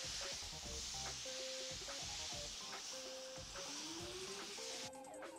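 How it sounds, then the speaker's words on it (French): Red wine poured into a pot of braising lamb on an outdoor winter cooking fire sets off loud, steady sizzling and crackling, with clinks and scrapes of stirring throughout and no voices. "Maintenant, on va rajouter environ une moitié de bouteille de vin rouge."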